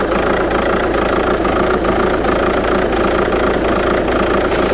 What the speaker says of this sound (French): Comme vous pouvez le voir, ça tremble pas mal, on est au ralenti, il y a des à-coups.